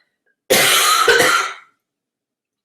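A single harsh cough bursts out close to the microphone, about a second of rough throat-clearing that breaks off into silence.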